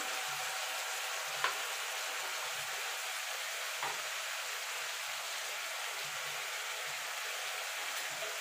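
Cumin-ginger paste is stirred into a mixed vegetable curry in a pan under a soft, even sizzle. Gentle, rhythmic low scrapes and thumps from the stirring recur throughout, with one sharper clink.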